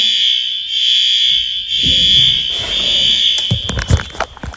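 A shrill, steady electronic fire alarm tone sounds continuously, with clattering and rustling movement nearby underneath it.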